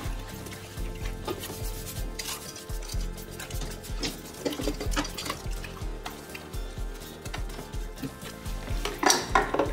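An air fryer basket, Proscenic T21, washed by hand with a sponge and dish soap: close scrubbing and rubbing, clattering knocks of the basket and splashes of water, irregular and moderately loud.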